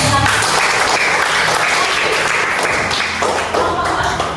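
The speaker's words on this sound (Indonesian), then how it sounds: "kasih tepuk tangan dulu." A group applauds during a church lesson with loud, steady, close clapping that fills the whole stretch without a break.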